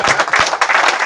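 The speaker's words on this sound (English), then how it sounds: "give them a big round of applause" Short burst of dense audience applause, many hands clapping at once, loud and close for about a second.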